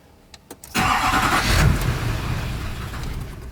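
Duramax diesel pickup truck cranking and catching, a few faint clicks, then the engine firing with a loud surge and settling into a steady rumbling idle, close by.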